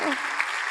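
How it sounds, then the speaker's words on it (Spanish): A short burst of audience applause during a church service, dense clapping heard briefly and moderately loud, with a voice briefly audible at the start. "si hay alguien ahí que grite de un aplauso"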